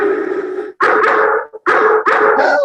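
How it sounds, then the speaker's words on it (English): A dog barks loudly and close by in three or four sharp bursts with brief gaps between them, with some whimpering yips mixed in. "why it bothers you when your dog is barking"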